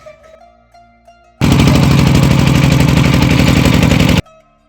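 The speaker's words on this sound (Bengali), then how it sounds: "এই মেশিনটার আওয়াজ আমার কান একেবারে বন্ধ করে দিছে" A loud boat engine on the Karnaphuli River suddenly starts and clatters steadily for about three seconds before cutting off, with quieter tones before and after.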